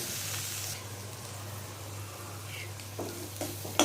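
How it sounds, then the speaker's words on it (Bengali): Chicken fries in a kadai with garam masala and coriander powder, giving a faint, steady sizzle over a low hum, with a few soft scrapes and clicks of stirring toward the end. "এখন একটু ভালো করে কষাবো বন্ধুরা।"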